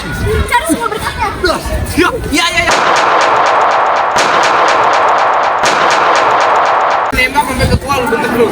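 Staged gunfire in a school drama performance about the G30S/PKI events at a Tangerang senior high school: a dense, loud burst of rapid shots lasting several seconds, with voices and crowd chatter before and after it.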